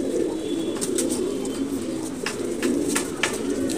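Pigeons cooing steadily around a loft where they walk about on a laid-out tray, a low continuous warble with scattered sharper flutters and clicks from the flock close by.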